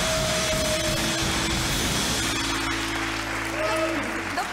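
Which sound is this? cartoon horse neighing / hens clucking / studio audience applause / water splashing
studio audience applause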